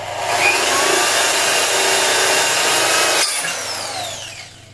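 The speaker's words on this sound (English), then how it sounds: "the only other option is to drill through this one, through the bottom" A power drill bores through the bottom of a sliding door during installation, a loud steady whine for about three seconds, then a sudden break and a fading rough grinding.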